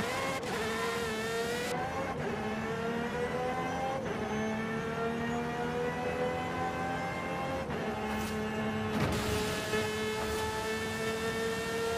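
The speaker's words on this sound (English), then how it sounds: "let me test drive it just to show you guys how this thing feels" An Aston Martin Valkyrie AMR Pro in Forza Horizon 5 roars under steady acceleration, its high engine whine rising and dropping through gear shifts, loud and continuous with no talk.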